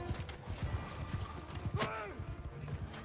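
Rapid hoofbeats of galloping horse archers clatter in a busy Mount and Blade II: Bannerlord battle scene, with a horse whinny rising briefly midway over constant background noise.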